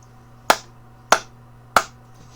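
Three sharp hand claps, evenly spaced about two-thirds of a second apart, each loud, close and dry with a quick decay, over a faint steady hum, used as a sync marker before playing and singing.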